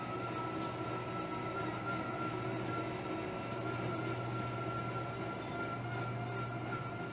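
Electric mule locomotives guiding a ship through a Panama Canal lock make a steady mechanical hum and rail drone, with a constant engine tone that holds evenly throughout and no talk.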